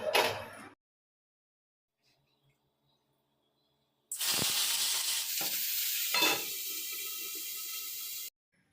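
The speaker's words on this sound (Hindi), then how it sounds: "ये जो आलू एंड परवल है ना, इनको ऑयल में थोड़ा-सा भून लेती हूँ।" Potatoes and pointed gourd sautéing in oil make a sharp burst of sizzle, then a pause, then a strong steady hiss with a stirring clatter that runs for about four seconds and stops abruptly.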